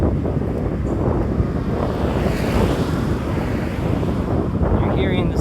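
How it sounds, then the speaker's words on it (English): Strong wind buffets the microphone during a walk in Ninohe, Japan, a loud, continuous roar and rumble throughout with no letup, broadband and steady from start to finish. "Enjoy the wind in your eardrums."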